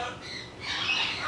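A small, tame Jardine parrot gives a brief, fairly quiet squawk at close range.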